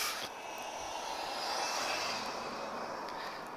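An airliner, not a Ryanair, passes at Lisbon Airport as a broad steady jet roar that swells slightly and then holds, heard at a distance with no voices.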